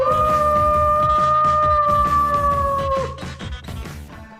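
A loud, sustained howl from the Arizona Coyotes goal horn holds a steady pitch for about three seconds over a pounding rhythmic music track, then cuts off while the beat continues more quietly.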